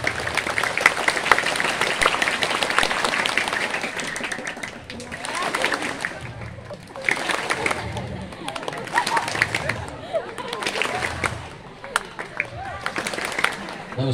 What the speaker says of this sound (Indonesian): Lima kali tepuk semangat.